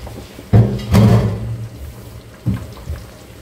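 Potato pieces dropped into a pot of simmering pork rib curry, a couple of dull, heavy thuds and splashes close by over a low bubbling background, with no one talking.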